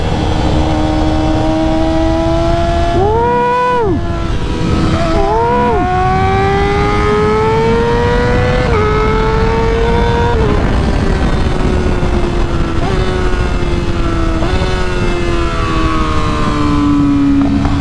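A Yamaha R6 sport motorcycle revved hard at high RPM while riding, a loud close engine whine that swoops up through gear changes and holds a sustained high-pitched scream for the whole stretch, with no talking.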